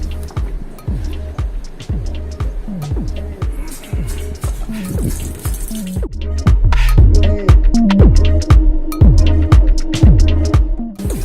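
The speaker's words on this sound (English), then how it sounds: "I'm going to start the washing with the cool water." Fabric being washed by hand under cool running water gives a steady, rhythmic squishing and sloshing, with repeated wet slaps and dripping that grow louder partway through.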